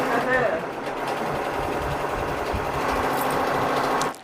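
An embroidery machine at work in a home runs with a continuous fast mechanical whir and rattle of stitching, steady and close throughout, with a voice talking over it before the noise drops off at the end.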